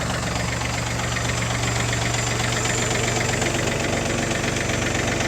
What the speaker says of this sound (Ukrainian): Рівненько, тихенько працює, ну, трактор взагалі ідеальний.